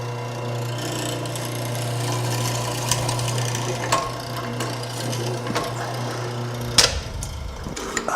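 A power tool cuts a twin mortise in wood, a steady loud mechanical hum with a vibrating buzz and occasional knocks that stops abruptly near the end, followed by a brief clatter, with no voices.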